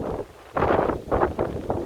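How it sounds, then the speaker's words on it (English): Gusty wind blows outdoors in blustery UK weather, buffeting the microphone in three or four loud, broad rushes, each lasting a fraction of a second, with a calmer lull between them. "it's a bit windy, because as I said, UK weather is something else."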